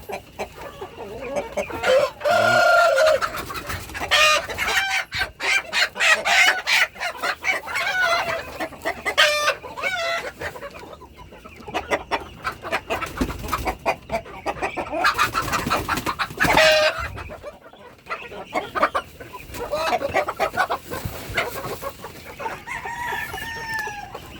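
A flock of native chickens clucks and squawks up close, with busy overlapping calls, rustling and occasional louder cries and crowing spread across the whole stretch.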